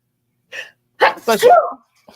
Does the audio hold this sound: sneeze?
yes